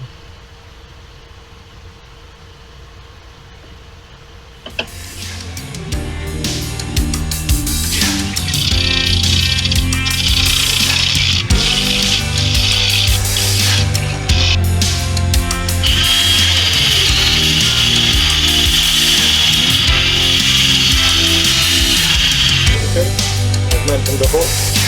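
A wood lathe spins at about 900 RPM while a gouge cuts the bottom of a turned piece, a loud close whirring hum with scraping, chattering tool contact that begins suddenly after a quiet start and continues steadily.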